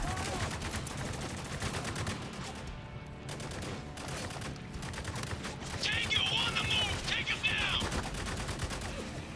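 Gunfire in the war shooter Spec Ops: The Line, a dense continuous clatter of automatic weapons and scattered shots layered with game effects, steady and loud throughout, mixed with indistinct voices.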